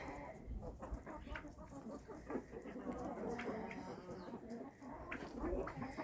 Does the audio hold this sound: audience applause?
no